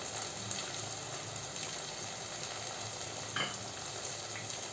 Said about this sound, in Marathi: आता आपला हा मसाला आपण छान तेलामध्ये तेल चांगलं सुटेपर्यंत परतून घेऊया